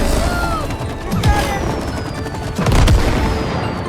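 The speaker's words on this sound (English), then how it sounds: "Combine the sap gun and the match gun to create explosions" Explosions from combined sap and match guns in the video game It Takes Two, two heavy booming blasts over a dense, crackling bed of game sound effects and music, loud and close.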